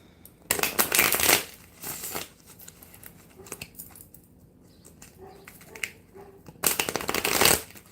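Tarot cards shuffled by hand for a daily reading: close, crisp riffling bursts, a long one at the start, a shorter one soon after, and another near the end, with quiet handling in between and no talking.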